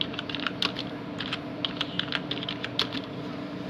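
Keys clatter on a computer keyboard in quick, uneven bursts of close, crisp taps over a low background hum, with no talking.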